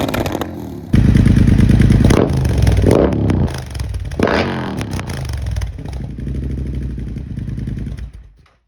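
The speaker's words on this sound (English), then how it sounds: "Bike's running so good." A 2020 Triumph Bobber Black fitted with a Rotrex C1560 supercharger runs loud and close, its engine rumbling and revving in surges with some mechanical clatter before cutting off sharply at the end.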